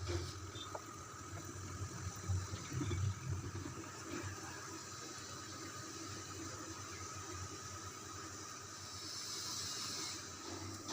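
Fish roe fritters frying in oil over low to medium heat, giving a faint, continuous soft sizzle and hiss that holds steady throughout.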